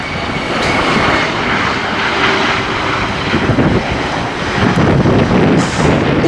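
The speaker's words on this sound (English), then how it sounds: "It does seem to be a good landing so far. And there was a touchdown." CityJet CRJ 900 LR regional jet landing at night, a loud continuous roar of jet engines and rushing air holding steady throughout, with a slight swell near touchdown and no voices.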